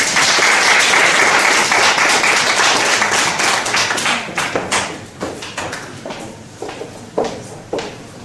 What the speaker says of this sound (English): let's welcome our speaker with a big round of applause